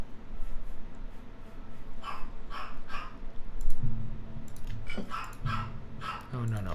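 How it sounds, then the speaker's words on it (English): A dog barks several times in short bursts at a moderate distance, mixed with clicking and some talking in the room. "hear my dog barking"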